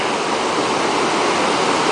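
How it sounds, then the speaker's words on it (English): A river rushes with a dense, constant roar of flowing water, close and loud, steady throughout with no voices. "There's that river."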